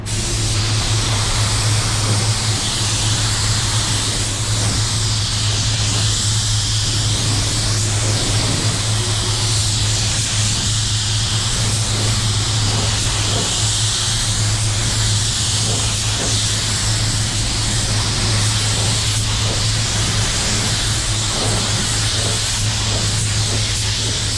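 A paint spray gun laying down one heavy coat gives a loud, continuous, unbroken hiss that holds steady throughout with no pauses.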